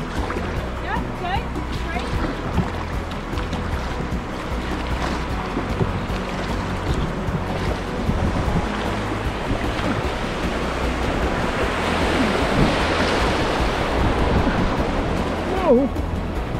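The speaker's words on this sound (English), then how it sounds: "So we're gonna paddle upstream" Paddles working a canoe upstream on a whitewater river, with rushing water and wash filling the background steadily and swelling louder toward the end, while people talk over it.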